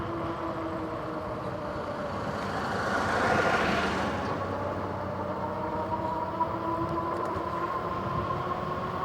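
A vehicle rolls along a bike path past work crews cutting things down, its engine rumble swelling as it nears and passes, then fading into steady low drone.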